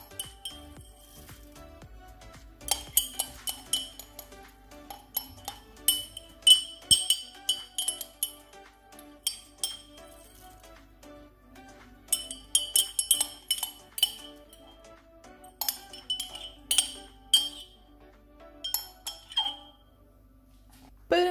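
Metal utensil clinking and scraping against a pot in bursts of sharp rings and taps, close by, separated by quiet stretches, with no voices.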